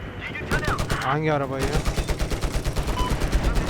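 Rapid automatic gunfire from Battlefield 4 rakes a car in a loud, steady stream of evenly spaced shots across the second half, with brief talk over the start.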